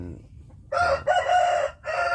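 A Thai fighting rooster crows close by, loud and drawn out, its call broken into a few bursts, with low background murmur beneath.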